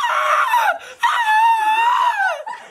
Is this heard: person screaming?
yes